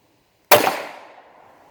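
One sharp gunshot from a PSA 5.7 Rock pistol, loud and close, with its echo ringing out and dying away over about a second.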